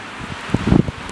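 Brief gusts of wind sweep across deep drifted snow during a heavy snowfall of about fourteen inches, buffeting the microphone in a few short rough bursts.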